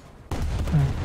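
A naval gun salvo from the cruiser USS Newport News in the War Thunder video game, one sudden loud boom that gives way to a deep rumbling tail.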